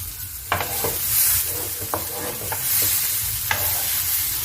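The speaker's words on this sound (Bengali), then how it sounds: "আর একটু ভাজা হবে" Unripe jackfruit core fries in a pan while a spatula stirs it, a close, steady sizzle broken by sharp scraping strokes roughly every second.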